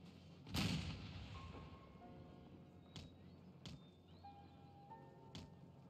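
Cannons and artillery fire in the strategy video game Empire Total War, with one heavy boom followed by several sharper, fainter shots spaced out over a quiet battlefield background.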